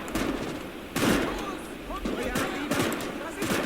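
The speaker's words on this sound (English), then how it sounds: "Keep firing. Keep shooting." Dense World War II battle gunfire from the Call to Arms: Gates of Hell game, with rapid overlapping shots and bursts continuing without a break, while a player talks over it.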